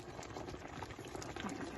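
Fish cooking in its own juices in a pan simmers with a soft, steady bubbling and crackling, faint and continuous, with no voices.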